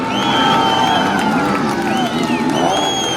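Spectators massed on a hillside at a motocross Grand Prix cheering loudly, a dense roar of voices and whoops with motorbike engines whining through it, no break.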